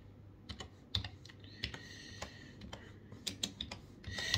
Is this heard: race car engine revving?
no